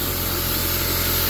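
Compressed air at about 150 PSI blasts steadily while a 2016 Nissan Armada is detailed, a loud, continuous broadband hiss running close up for the whole moment with no talk.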